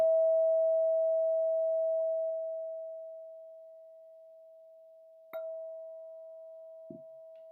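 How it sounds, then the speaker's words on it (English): A struck vibratone rings out as a single pure, steady tone in a quiet room, slowly fading over several seconds, with a couple of faint brief knocks near the end. "Let's start with the sound of the vibratone."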